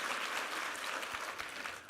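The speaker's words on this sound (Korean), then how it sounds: "우리 수고한 특순팀에게 한번 힘찬 격려의 박수 부탁합니다" A church congregation claps warmly for the special music team after a worship song, a dense steady burst of applause fading slightly at the end.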